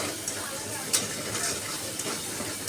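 Chopped garlic, ginger and green chilli fry in a hot pan with a steady broadband sizzle, broken by a few sharp clinks and scrapes of stirring; close and moderately loud, with no one speaking over it.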